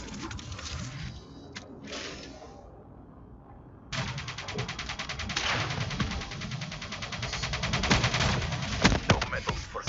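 Video game gunfire with rapid automatic bursts and dense rattling shots, loud and continuous in the second half after a quieter stretch, alongside game sound effects.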